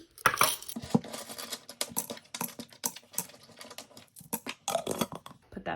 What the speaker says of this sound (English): I'm going to put my change in my change jar